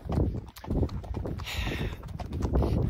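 Hooves of a horse being ridden across lower range land clip-clop in a steady walking rhythm, close and fairly loud, with no talking.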